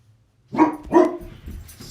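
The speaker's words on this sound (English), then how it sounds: "Sorry, I have a couple dogs in here right now." A couple of dogs barking indoors in a room, two loud close barks in quick succession followed by softer yips and rustling.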